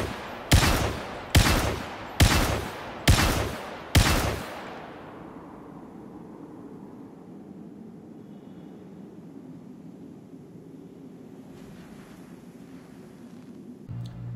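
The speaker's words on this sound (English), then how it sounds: "Switch over to the fully automatic, you're going to notice that your spread is a lot tighter." A ballistic weapon in the video game Star Citizen fires on fully automatic: five loud, evenly spaced shots, each with a sharp crack, followed by a long fading tail and quiet ambient hum.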